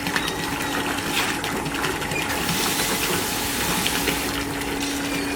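Watermaker pump aboard a liveaboard catamaran, drawing in seawater through its suction line, with a steady close mechanical hum and a constant watery gush that holds evenly throughout.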